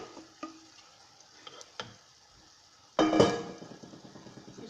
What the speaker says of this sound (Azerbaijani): Soğanlar qovrulmağa başlayıb, artıq rəngini dəyişib və indi soğuzu qazana boşaldırıq.